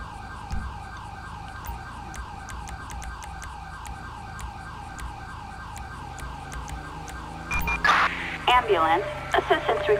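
A wailing ambulance siren in Grand Theft Auto V cycles steadily up and down throughout, with a dog barking and a burst of other noise near the end.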